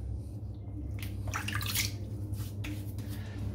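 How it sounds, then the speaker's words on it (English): Water is splashed and scooped onto a face before a wet shave with a brush. There are a few soft, close splashes and drips over a low steady hum. "Just going to wet my face."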